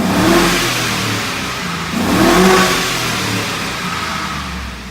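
The LS engine of a 2002 Chevrolet Silverado 2500HD, 156K miles, runs close up with a loud, steady roar and two surges of revving. No one talks.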